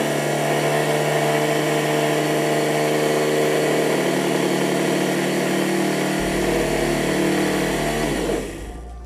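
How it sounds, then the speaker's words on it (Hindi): A DC motor spins at high RPM while driving a generator, producing a loud, steady mechanical whine and hum that stays even for several seconds and then winds down sharply near the end. "तो ये थोड़ा सा साउंड इसलिए कर रहा है क्योंकि आरपीएम ज़्यादा है"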